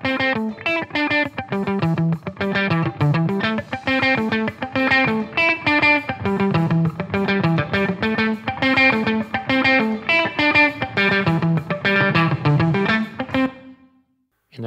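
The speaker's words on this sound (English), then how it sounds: "you'll hear more and more reverb" Music with a heavy reverb tail added through a send, the notes washing into a lingering wash that rings on briefly after the playing stops near the end.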